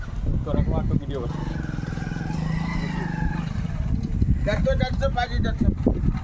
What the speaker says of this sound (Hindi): इतना कठिन रास्ता में भी गांव के लोग जो है बाइक चला के आगे